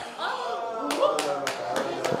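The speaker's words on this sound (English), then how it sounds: "Round of applause, man." A few people clap for a third-place result, about four or five sharp claps spaced apart over voices and light laughter.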